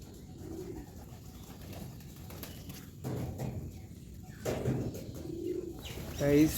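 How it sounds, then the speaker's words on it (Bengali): Soft, low pigeon coos repeat a few times against a murmuring background, with a brief brighter chirp near the end, as pigeons come to feed on a rooftop. "আস্তে আস্তে পায়রাগুলো খাবার খেতে আসছে"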